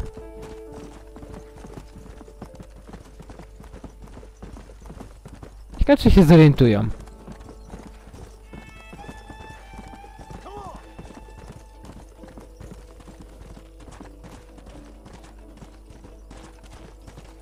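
Horse hooves clip-clop steadily in the Red Dead Redemption video game, with a brief loud burst that sounds like a whinny partway through, all under someone talking.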